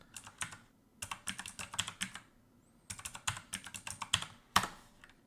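Fingers type a passphrase on a computer keyboard in quick clusters of crisp, close key clicks, separated by short silent gaps, ending with a harder final keystroke.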